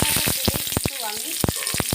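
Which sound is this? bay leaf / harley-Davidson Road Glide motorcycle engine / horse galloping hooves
bay leaf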